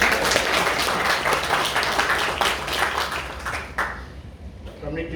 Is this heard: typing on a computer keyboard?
no